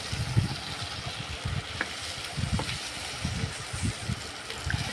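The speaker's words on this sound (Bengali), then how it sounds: "কষে নিচ্ছি এখন মশলা এবং চিকেন।" Chicken and spices sautéing in a kadai, a steady soft sizzle with repeated low scraping and stirring thumps of a spatula against the pan.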